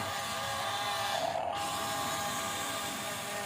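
A Huina 1593 remote-control excavator turns its upper body, making a steady whirring, ratcheting mechanical drone of small gears and motor, close and continuous, with no voices.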